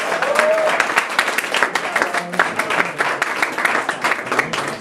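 Audience applause for three presenters at a cause fair, dense steady clapping from a crowd lasting throughout, with a brief voice mixed in.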